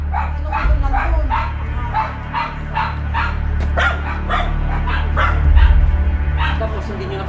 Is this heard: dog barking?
yes